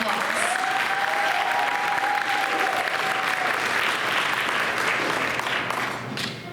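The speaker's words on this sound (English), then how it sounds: "Can we give these contestants one last round of applause?" Sustained audience applause for pageant contestants at a Miss TLH and Miss Yellow Jacket event, steady and full for about six seconds before easing slightly at the end.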